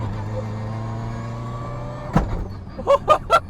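A Mitsubishi Lancer Evolution VI engine idles steadily, then a sharp pop followed by three quick, loud exhaust pops near the end as the engine revs toward 4,000 rpm.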